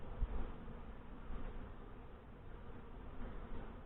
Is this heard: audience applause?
no